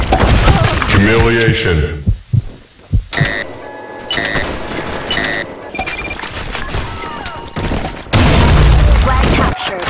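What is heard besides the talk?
grenade explosions in a video game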